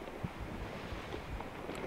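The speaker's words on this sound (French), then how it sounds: "Vraiment, on est bien dans le vent là." Wind in a pirate game rushes steadily and loudly throughout, a dense blustery roar with faint hints of surf and creaking, and no voices.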